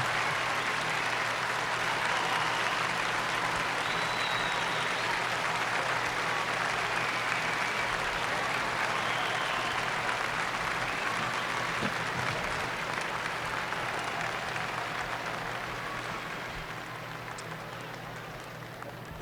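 A large audience applauds with steady, dense clapping that stays loud for most of the stretch and eases off slightly toward the end, with no talk over it.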